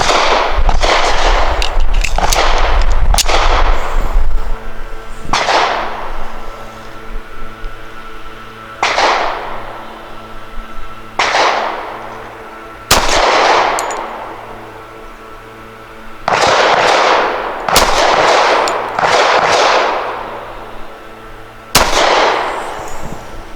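A Rock Island Ultra CCO pistol fires SIG V-Crown 185-grain hollow points outdoors. Around ten loud, sharp shots ring out at irregular intervals, some in quick pairs, each with a ringing decay.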